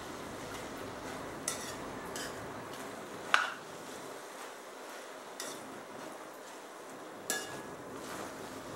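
Veg biryani being gently mixed in a pot, quiet shuffling of rice under a spoon with a few soft clinks of utensil against metal spaced through the clip.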